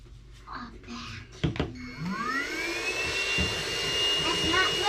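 A vacuum cleaner starts up during a Victorian staircase repair, whining up to a loud, steady high-pitched roar after a few clunks and brief talk.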